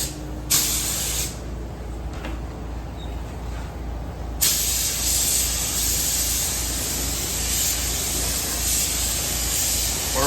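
A DeVilbiss Millennium spray gun with a 1.4 tip sprays paint onto a 1965 C30 dually truck, a loud continuous hiss that cuts out briefly and then resumes, steady and close.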